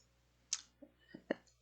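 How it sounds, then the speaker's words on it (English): A computer mouse is right-clicked during design work on a score line, giving a few faint, sharp plastic clicks spaced irregularly over a quiet background. "I'm going to right click on this score line"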